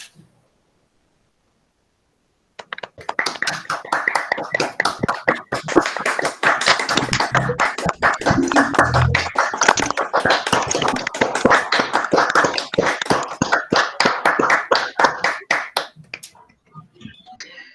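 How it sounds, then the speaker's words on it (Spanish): Sustained applause from a crowd, dense clapping mixed with scattered finger snaps, steady and loud for about thirteen seconds before tapering off. "abramos micrófono, abramos cámara y le brindemos un fuerte aplauso a Dylan Magaña."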